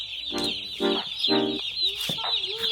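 Many Cornish Cross meat chicks peep together in a constant high-pitched chorus, with a few lower clucking calls breaking through nearby.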